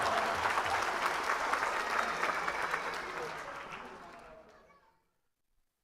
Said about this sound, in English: let's just clap it up for Coach Prime.